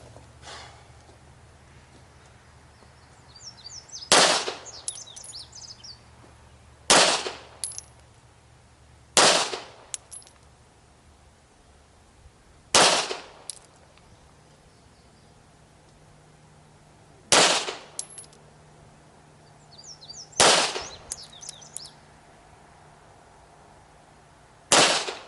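Pistol rounds fired one at a time at an outdoor shooting range, each a sharp, loud crack separated by pauses of a few seconds, with quiet range ambience between shots.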